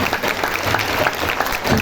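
Sustained applause from a large crowd at a Hindu spiritual discourse in a Delhi ashram, dense steady clapping with no gaps, close and loud throughout.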